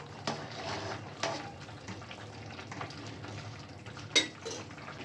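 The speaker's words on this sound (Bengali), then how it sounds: "ঢাকনাটা খুলে একটু নেড়ে দেবো" Steel lid lifted and a spoon stirring vegetarian bottle gourd greens curry in a cooking pot, with a few sharp metallic clinks over a low steady simmer, close and fairly quiet.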